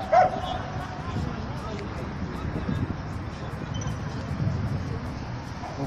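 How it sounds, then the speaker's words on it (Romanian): A police dog barks and yips a few times amid a murmuring crowd at a dog training trial, the calls mid-distance and partly buried in the background chatter. "Câinele e mișto."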